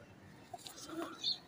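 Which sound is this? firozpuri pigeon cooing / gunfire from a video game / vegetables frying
firozpuri pigeon cooing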